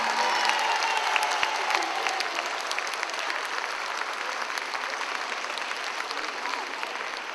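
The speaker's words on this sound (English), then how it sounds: "Let's give our presidents and prime ministers another round of applause." An audience at the 2008 Caribbean Conference (Caricom) at York College applauds its presidents and prime ministers: dense, steady hand-clapping from a large crowd with a few faint cheers, sustained at an even level throughout.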